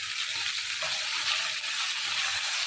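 Garlic and ginger paste with onion frying in a pan for a rui fish and potato curry, a steady close hiss and sizzle running without pause, no talking.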